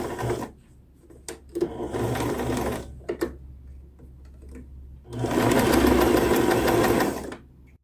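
An electric sewing machine stitches a fabric seam on a loose dress, running in several bursts of steady rapid whirring with short pauses between, close and clear with no talk.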